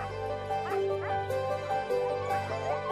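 Sled dogs used for cross-country skiing and sledding on a snowy mountain meadow, a pack yapping and whining in repeated short barks and whimpers, moderately near and continuous throughout.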